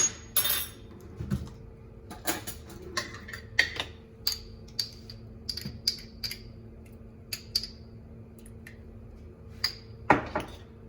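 Garlic stirred into fideo in a pot, a spoon clinking and tapping against the metal in irregular, fairly quiet strikes over a low steady hum.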